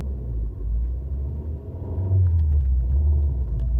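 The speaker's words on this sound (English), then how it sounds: "If you've never been in a Fiat, it's the loudest car of all time." A loud Fiat car engine rumbles steadily while driving along a rural road past cornfields in Iowa, a deep continuous drone that swells slightly louder partway through, with no talking.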